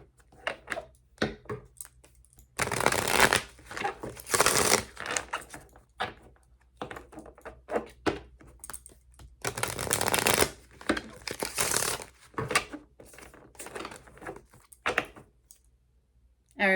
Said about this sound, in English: Let's get a couple cards for Leo.